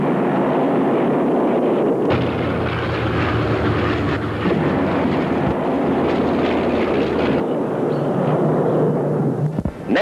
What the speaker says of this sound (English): Navy fighters and bombers and torpedo planes are in the air